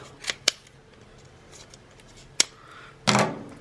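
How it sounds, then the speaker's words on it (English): Scissors snip film free from a spool while loading a Paterson developing tank: a few sharp, close cuts spaced irregularly, with a longer final snip. "all I need to do is use my scissors again and cut that off"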